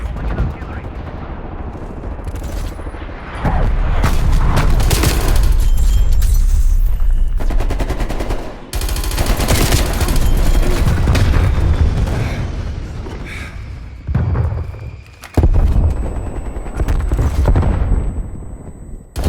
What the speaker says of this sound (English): War Machine firing for War machine effect.